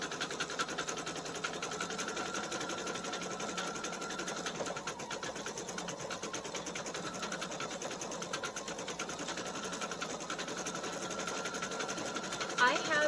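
An embroidery machine runs near top stitch speed, stitching a design through a magnetic 150x150 mm hoop with a steady, rapid mechanical chatter and hum that carries on throughout. A person talks over the machine.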